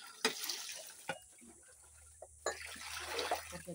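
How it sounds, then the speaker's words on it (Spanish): Splashing and trickling water as dishes are washed with soap in a river, irregular pours and clatters close by, with occasional quiet background sounds. "A mí me encanta lavar trastes en el río"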